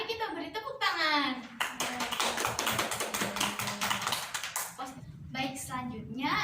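Schoolchildren in a classroom clap for classmates who have just read aloud, a burst of quick, scattered handclaps in the middle, framed by a teacher's voice speaking before and after.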